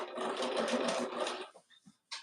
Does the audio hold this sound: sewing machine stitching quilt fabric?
yes